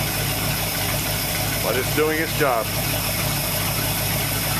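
Chevrolet 327F V8 idling steadily, a constant mid-range drone and rumble that runs the whole time beneath someone talking.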